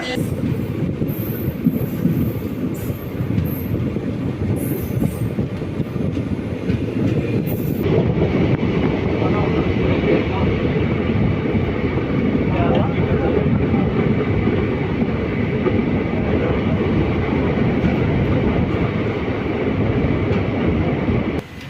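The Maveli Express night passenger train in Kerala rumbles along continuously, wheels clattering on the rails with occasional squeals, loud and close, as if heard from on board.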